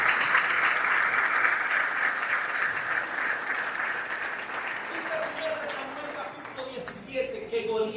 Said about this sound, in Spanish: Aplauda eso, aplauda eso.